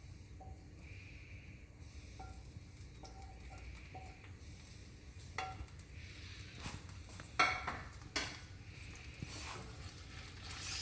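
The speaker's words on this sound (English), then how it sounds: "So you can hear the tofu sizzling." Steady hissing sizzle of tofu frying in hot oil, with a few sharp metallic clinks of a utensil near the end.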